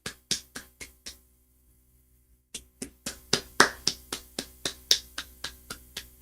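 Sharp hand claps: five quick claps, a pause of about a second and a half, then a longer run of steady, louder claps close by.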